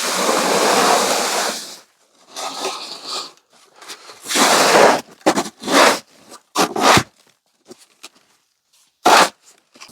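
A SnowPlow snow pusher shovel scraping through wet, heavy snow, a long gritty scrape followed by a series of shorter rasping pushes and brief scuffs separated by quiet gaps, close and loud.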